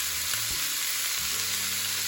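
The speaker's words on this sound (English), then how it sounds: "In the meantime, I'm gonna also put my callaloo. The callaloo I'll cook with a limited amount of seasoning." Callaloo for Jamaican-style vegan Rasta Pasta cooks in a pan with a little seasoning, giving a steady, close sizzle and hiss throughout with no talking.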